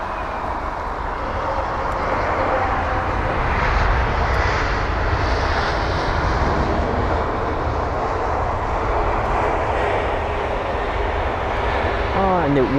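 Aer Lingus Airbus A330 jet at London Heathrow, a loud, sustained roar of engines that holds steady and broad throughout, with a faint rising whine near the end.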